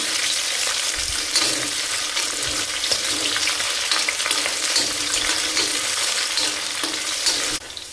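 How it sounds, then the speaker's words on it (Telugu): Chopped capsicum sizzling in oil in a pan while cooking paneer curry, a loud, continuous frying hiss with faint crackles and no talking over it. "క్యాప్సికమ్ వేగిపోయిందండి"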